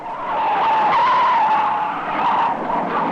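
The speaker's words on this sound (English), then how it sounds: "Hey, look at the big car barreling down the street." A big black car barrels down the street in a 1970s TV comedy special, giving a loud, continuous tire skid and squeal with a steady high-pitched tone lasting several seconds.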